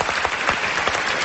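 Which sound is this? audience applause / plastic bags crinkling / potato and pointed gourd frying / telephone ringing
audience applause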